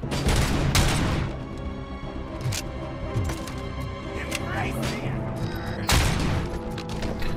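Grenade explosion and gunfire in the RoboCop: Rogue City video game, sharp booms and rapid shot bursts scattered through the stretch, with a loud blast near the end over constant game noise.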